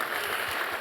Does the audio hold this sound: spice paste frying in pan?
no